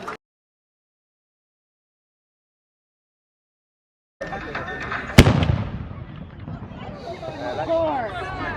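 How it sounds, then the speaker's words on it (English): A ceremonial cannon fires during a torchlight procession at the Reivers Festival in the Scottish Borders, one sharp, loud blast ringing out over a murmuring crowd after a silent gap, with people talking through the rumbling tail. "that cannon go off there"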